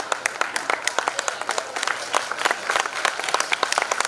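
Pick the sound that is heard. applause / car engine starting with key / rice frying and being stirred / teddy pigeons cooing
applause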